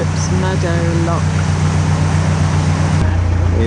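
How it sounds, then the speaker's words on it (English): A heavy engine drones steadily close by as a large canal boat squeezes past visitor moorings near Bishop's Meadow Lock, a low continuous rumble with wind noise, and a voice speaks briefly over it. "Here's a nice big boat squeezing past us on these visitor moorings"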